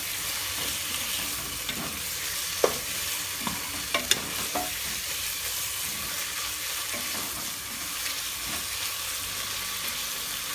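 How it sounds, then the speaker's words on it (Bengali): Ginger-garlic paste fries in oil for mutton tehari, a steady sizzle broken by scattered spatula scrapes and taps against the pan, with several sharper knocks, no talking. "আদা রসুনের পেস্ট কিছুক্ষণ ভাজতে হবে"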